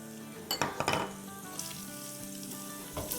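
Red chilli powder, Kashmiri chilli and salt sautéing in a pan for mutton pulao, a continuous sizzle broken by a few sharp spoon-and-pan clinks and scrapes up close.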